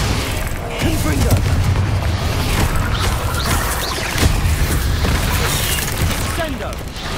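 Fiery spell blasts in the Hogwarts Legacy video game, repeated booming explosions and crackling impacts layered over continuous game music and effects, with a voice speaking over the action.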